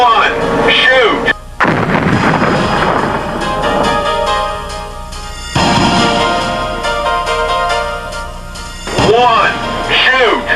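An underwater shock-trial explosion beside the destroyer USS John Paul Jones (DDG 53) sounds as a heavy, booming blast with long rumbling roar and a second surge midway, loud and close, with shouting voices overlapping near the end.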